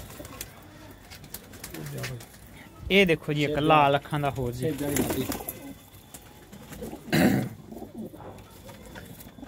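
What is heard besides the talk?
pigeons cooing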